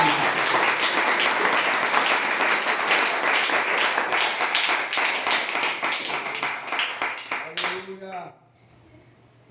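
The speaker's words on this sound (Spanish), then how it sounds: "denle ese aplauso fuerte al Señor en esta mañana" A church congregation bursts into loud, sustained applause during a Spanish-language service, dense clapping filling the room before tapering off abruptly near the end, with faint voices underneath.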